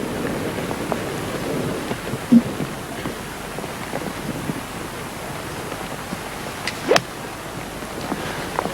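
Rain falls steadily over a seaside links golf course, Royal Lytham & St Annes, a broad soft wash mixed with wind noise, with a couple of brief louder knocks.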